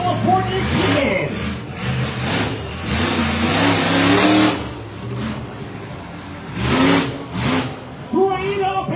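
California Kid, a monster truck, revs its engine hard during a freestyle run, loud roaring bursts that rise and fall in repeated surges, with a pause near the middle before further throttle blips, under an announcer's voice.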